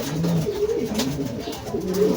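A racing pigeon that has just come home from a 430 km race coos close up, with several soft, throaty rolling calls following one another.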